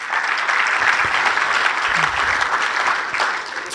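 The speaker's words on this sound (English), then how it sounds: "Let's give him a round of applause for that." Sustained applause from a crowd at a Pickleball Hall of Fame induction ceremony, dense steady clapping filling the whole stretch at a fairly loud, even level.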